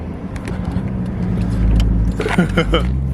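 A Toyota JZX car pulls hard with its wheels spinning. A steady, loud engine drone rises in pitch and intensity, with a voice briefly heard over it near the end.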